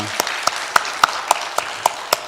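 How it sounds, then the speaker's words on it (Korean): A church congregation claps in a slow, even rhythm, about eight distinct sharp claps spaced roughly a quarter second apart over a quiet background. "신실하신 하나님께 영광의 박수 올려드리겠습니다"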